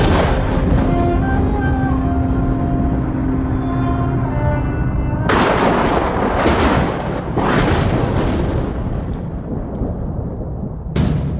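Gunfire rings out in a shooting scene from a Hindi comedy action film, as heavy booming bursts that follow a sustained musical drone, loud and reverberant throughout.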